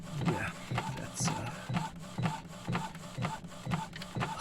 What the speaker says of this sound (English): Let me just lower down the printer a bit more.